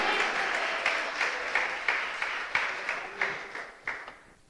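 Church congregation applauding during a sermon, a steady wash of clapping with rhythmic unified accents roughly every third of a second, gradually fading toward the end.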